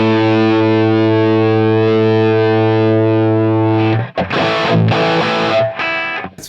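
Electric guitar through a Helix Super Overdrive pedal model into a Laney LFR 212 cabinet, a long sustained distorted chord ringing loud for about four seconds, then a burst of choppy overdriven strums and short riffs.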